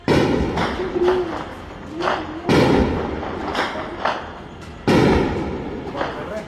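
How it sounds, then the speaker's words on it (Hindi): Several deep thumping blasts go off at intervals, loud and booming, with a person speaking between them. "अल्लाह खैर करे, ये धमाके की आवाज भी बहुत ऊंची होती है।"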